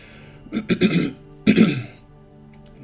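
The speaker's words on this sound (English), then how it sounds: "Clear my throat again" A person clears their throat loudly and close up, in two rough, raspy bursts separated by a short pause.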